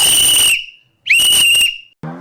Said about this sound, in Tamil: இந்த பாரு விசில்.